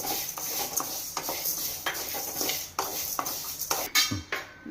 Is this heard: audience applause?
no